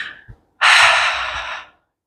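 A single deep breath is drawn during a yoga goddess pose, a long airy exhale that is close and clear, with a shorter breath just before it in a quiet room.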